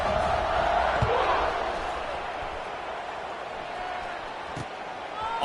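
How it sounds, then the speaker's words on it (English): A stadium crowd murmurs and buzzes in a College Football 26 video game, a steady broad roar heard under a commentator's talk, with a couple of brief thumps. "this crowd is buzzing after that last score"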